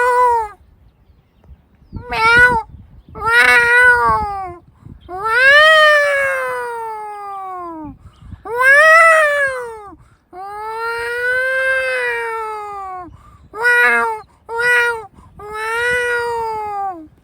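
A person imitates a cat, producing a series of about nine drawn-out, whining meows of varying length, loud and close, separated by short pauses.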